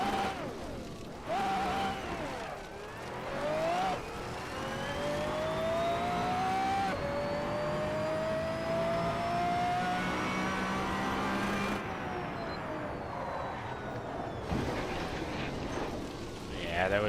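Car engine in a driving game played on a steering wheel with no assists, revving and rising in pitch in repeated pulls, falling back between shifts, heard under ongoing talk.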